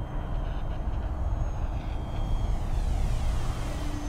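An FMS Diamond Hobby Let 13 RC model airplane with a metallic finish flies under power, its motor giving a steady, moderately loud broadband drone outdoors, no voices heard.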